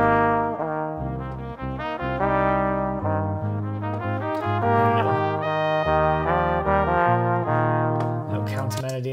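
A brass ensemble plays an arrangement of a song, with a flugelhorn weaving a counter melody over sustained low brass chords, warm and close without any talking.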